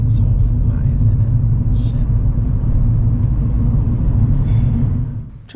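Steady, loud low rumble of a car driving along a road during a learner's driving lesson, continuous road and engine noise from inside the cabin that fades slightly at the end.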